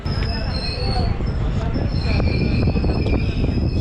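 The 18626 Koshi Super Express passenger train runs from Hatia to Saharsa on a cold day, heard from near the open door: a loud, steady clatter and rumble of the moving coaches with faint high wheel squeal over it.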